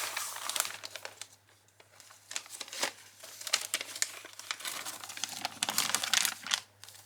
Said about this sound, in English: Now I have cut open the wrapping paper on the other side so I can turn it over